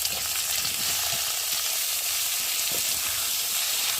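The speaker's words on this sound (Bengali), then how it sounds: "এবার কেটে রাখা আলুগুলোকে দিয়ে ভেজে নেব।" Cut potato pieces fry in hot oil in a pan, giving a steady, close sizzle with soft stirring knocks throughout.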